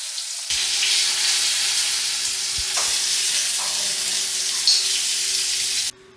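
Squid rings frying in hot oil, a steady loud sizzle that runs unbroken for several seconds, with brief stirring clinks partway through and a sudden cutoff near the end.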